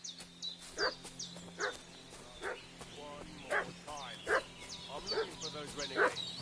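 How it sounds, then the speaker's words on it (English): A dog in the game Kingdom Come Deliverance 2 barks in a series of sharp, evenly spaced yelps with whining in between, about eight barks over a low background. "What's that dog making such a fuss about?"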